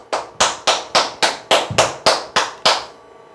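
An audience at a telemarketing sales coaching seminar claps in unison, about ten sharp, evenly spaced claps in a steady rhythm, close and loud, ending abruptly.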